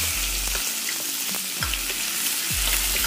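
Onion hits hot oil already holding cumin, nigella and fenugreek seeds, giving a steady close sizzle with a few soft stirring scrapes and low thumps of the spoon against the pan, no voices.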